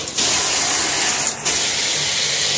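Water spraying from a filtered water-softener shower head, a loud, steady hiss of spray with two brief dips where the pattern is switched, no voices.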